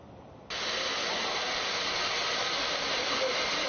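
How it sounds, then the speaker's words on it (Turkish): Hair dryer blowing steadily in a hair salon, a quiet hum until it switches up to a loud, constant broadband whoosh that runs unbroken to the end. "Fön makinelerinin aralıksız çalıştığı salonların faturası katlandı."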